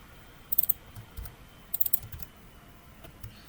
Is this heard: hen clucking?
no